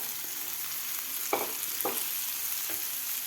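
Besan mixture being sautéed in a pan for Maharashtrian methi zunka, a steady sizzle with a few distinct scraping stirs of a spoon against the pan, close and moderately loud.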